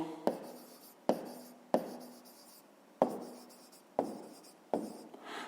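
Numbers written by hand on paper, six distinct scratchy pen strokes at an uneven pace, each starting with a tap and trailing off in a soft scrape, close and quiet.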